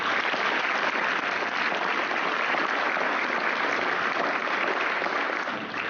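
A high school honors convocation audience gives a round of applause for the counseling secretary, a steady wash of many hands clapping that holds evenly throughout and tapers slightly at the end.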